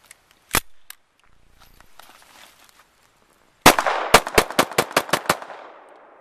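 A Beretta 71 pistol fires at a shooting range: one isolated shot, a pause, then a quick string of about eight sharp, loud reports in close succession, each ringing out briefly.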